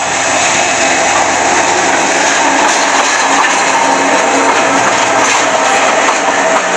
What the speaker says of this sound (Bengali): ট্রেন আসতেছে